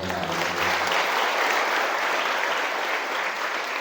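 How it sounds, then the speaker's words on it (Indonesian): Loud, dense applause from an audience at a religious motivational event in an Islamic girls' boarding school, sustained clapping that holds steady for several seconds after a brief low hum at the start. "Tepuk tangan untuk kita semua."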